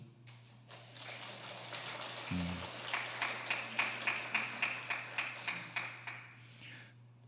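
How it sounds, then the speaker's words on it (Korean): A church congregation claps for the choir during a Sunday worship service, a soft, hesitant patter that builds into steady, evenly spaced claps, heard from some distance over a low hum, with a brief murmur near the start. "우리 찬양대원들에게 제 박수를 쳐줄 수 있을 것 같습니다"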